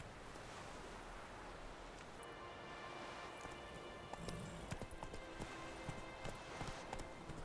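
Horse hooves clip-clop in the video game The Witcher 3, a soft rhythmic patter under steady wind and water ambience that grows more distinct toward the end.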